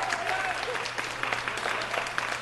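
An audience at a live music show applauds steadily, with a few shouts and whoops rising over the clapping at a moderate distance.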